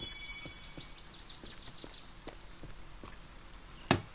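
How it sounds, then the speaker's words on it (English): Faint footsteps in The Forest, soft rhythmic thuds at roughly half-second intervals under a quiet ambient background, with a sharper knock near the end and high chirping at the start. "I feel like I'm hearing footsteps that aren't my own."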